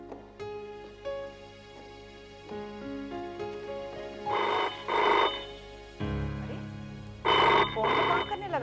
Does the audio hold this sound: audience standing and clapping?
no